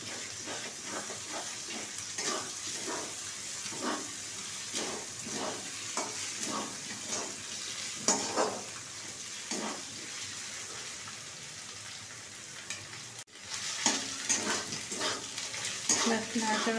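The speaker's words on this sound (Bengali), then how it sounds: "নাড়াচাড়া করতে করতে ভাজা হয়ে গেছে" Potatoes, onions and egg frying together in a pan for chowmein, a steady sizzle broken by repeated scraping stirs in an irregular rhythm, close and moderately loud.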